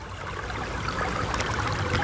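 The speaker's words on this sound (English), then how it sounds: "So here's a nice little stream coming down here" A small stream flowing downhill beside the Appalachian Trail makes a steady, close burble and trickle with no voices over it.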